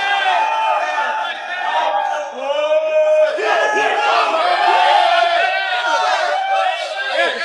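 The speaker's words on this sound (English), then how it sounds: "Crowd really loving this performance so far." Crowd roaring and yelling throughout at an MMA bout as a Chinese fighter regains his feet against a Korean champion, a dense, sustained wall of cheers and shouts.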